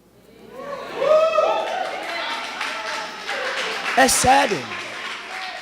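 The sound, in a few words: audience applauding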